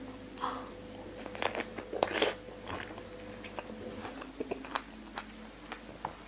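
Biting into a jumbo Spanish strawberry, then close, wet chewing with small crunches and smacks, repeated through the stretch with no talk.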